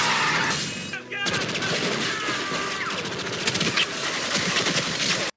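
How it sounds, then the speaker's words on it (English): Bursts of automatic gunfire ring out in a scene from the 1998 film Blade, dense rapid volleys with shattering and crashing, broken by a brief pause, then continuing loudly to the end. "Why am I hearing gunfire?"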